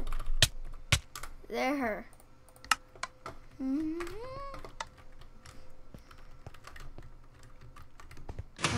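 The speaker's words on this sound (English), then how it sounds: "I can never type this in properly." Computer keyboard typing while playing Minecraft, heard as scattered sharp key clicks spread across the moment, close and crisp, with someone talking and exclaiming between them over faint game sounds.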